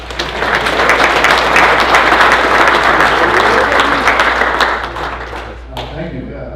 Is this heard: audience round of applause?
yes